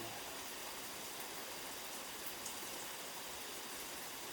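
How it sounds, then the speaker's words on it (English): Steady, even rain falls as a constant broadband hiss, soft and diffuse with no distinct drops or other sounds standing out. "Listen to the rain"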